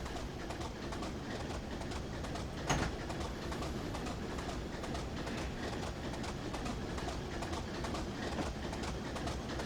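Diesel train engine in Train Simulator Classic on the Buchan Line from Aberdeen to Peterhead, a steady, dense rumble with faint rhythmic clatter and one brief sharp blip partway through.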